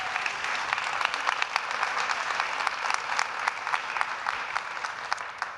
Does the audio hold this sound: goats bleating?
no